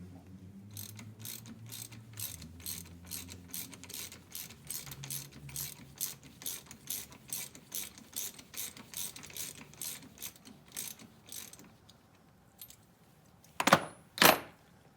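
Steady run of ratchet clicks, about two per second, as a 2007 Honda CRF150R fork is tightened, close and clear, then a pause and two sharp, louder metallic knocks near the end.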